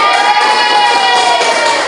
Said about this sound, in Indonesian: tepuk tangan buatnya ya